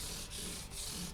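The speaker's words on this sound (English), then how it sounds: "Now I'll continue on with the 400 grit wet sandpaper from Stu Mac" 400-grit wet sandpaper rubbed on a scrub block made from a bullnose piece of stair tread, working a koa J-200 guitar, giving a steady close scratchy rasp with brief dips as the stroke changes direction.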